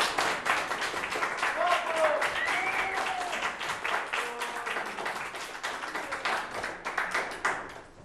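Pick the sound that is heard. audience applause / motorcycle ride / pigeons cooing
audience applause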